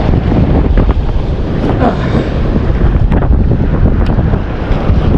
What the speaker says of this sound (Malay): Ini kondisi laut berangin, teman-teman.